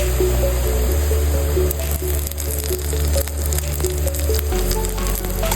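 Ginger paste frying with spices in a hot pan on a home stove, a loud, continuous close sizzle with wet squishing and stirring scrapes, no speech over it.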